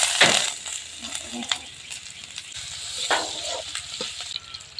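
Chopped onion frying in a hot pan, a steady close sizzle with bursts of spatter and a few sharp clinks, continuing alone without talk.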